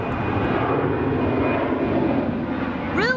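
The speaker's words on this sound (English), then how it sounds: "Really? Again, you stupid airplane?" An airplane passes overhead on a nature trail, a loud, steady roar of aircraft engine that holds for several seconds. A voice breaks in briefly near the end.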